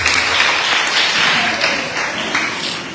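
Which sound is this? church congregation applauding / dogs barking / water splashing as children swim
church congregation applauding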